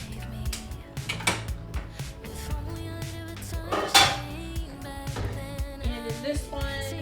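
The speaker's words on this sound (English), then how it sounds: "I'm gonna put a lid on this, and I'm actually going to move it" A metal lid set onto a cooking pot and the pot shifted to a back stove burner, a series of close clinks, taps and scraping knocks with one sharper metallic clang midway.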